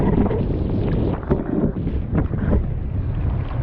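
Strong wind buffets the microphone on open water during stand-up paddleboard foiling, a loud, continuous rumbling roar with gusty swells and faint water sounds beneath.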